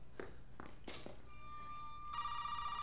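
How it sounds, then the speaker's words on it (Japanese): A phone rings in the horror game Resident Evil 7, a steady electronic ringing tone that comes in near the end after a few soft footstep-like thuds. "ゾイの電話。"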